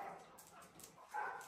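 A two-month-old rescued puppy, once covered in ticks, gives soft, faint whimpers and yips in a quiet shelter setting, a few brief cries close by without talk.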